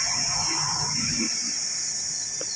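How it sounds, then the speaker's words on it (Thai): Cicadas drone steadily behind a rural house in the dry-season morning, a continuous high buzzing that fills the whole clip, with faint distant sounds beneath it. "ได้ยินแต่เสียงแมงจักจั่น"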